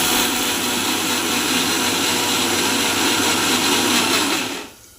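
Mixer grinder running dry on mustard seeds, poppy seeds and green chillies, a loud, steady whirring grind held for several seconds before cutting off, no talking.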